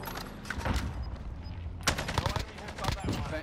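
Warzone gunfire on Rebirth Island, a steady stream of sharp shots and bursts over a busy battle mix, with one louder volley midway and game voice chatter underneath.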